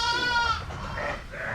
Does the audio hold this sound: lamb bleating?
yes